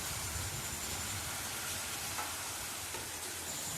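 Chana dal halwa with milk being stirred slowly in a pan, a steady soft hiss and faint scraping running evenly throughout with no talk.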